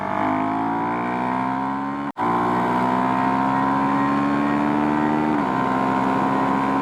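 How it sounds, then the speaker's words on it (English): Car fitted with a Powertronic ECU and Fuel x Pro pulling hard in third gear, a smooth continuous engine note climbing steadily in pitch, with a brief cut at a shift and then a sustained rise, loud and close. "Give it a little bit of bean, see how it does. A little third gear pull."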